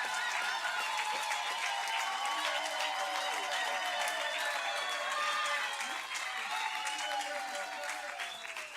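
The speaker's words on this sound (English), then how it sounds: "we applaud you" A large audience at a national exam results announcement in South Africa applauds in a sustained, dense wave of clapping that fades slightly toward the end.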